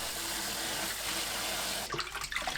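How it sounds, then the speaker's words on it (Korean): Boiled dried greens for the Korean full-moon holiday dish rinsed under steady running cold water at a sink, a constant hiss that breaks into uneven splashing near the end. "2시간 후 찬물에 헹굽니다."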